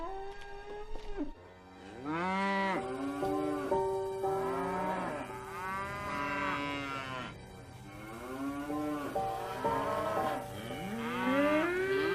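Cows moo repeatedly, several long drawn-out calls in a row, some overlapping, fairly close and clear against a quiet farm background with no talk.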